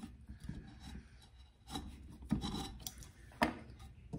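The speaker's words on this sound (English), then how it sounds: "When it starts having that sound right there is when you cut through the epoxy." A blade rasping through cured epoxy around a tumbler, heard as quiet, uneven scraping strokes with a few sharper catches, close up and alone.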